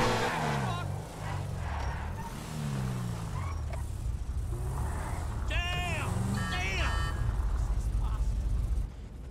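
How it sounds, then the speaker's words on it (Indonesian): A fast car races in the Grand Theft Auto V video game, a steady engine roar running throughout with rising and falling pitch sweeps, while people talk over it. "Buset kenceng banget mobil."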